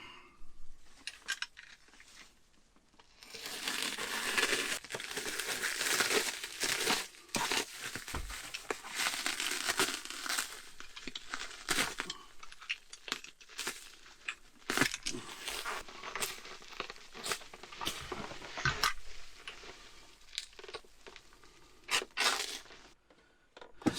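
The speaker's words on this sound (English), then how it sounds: "So let's get this unwrapped." Wrapping on a package for a VW T4 dashboard and instrument cluster job gets torn open: steady crinkling and crackling for about twenty seconds, broken by sharp rips and pops, close up with no talking.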